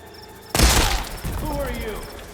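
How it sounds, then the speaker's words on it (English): Gunfire in the Horizon Forbidden West video game: a single sharp, loud shot with a quick decay, followed by game sound and a voice speaking. "Someone's shooting at me."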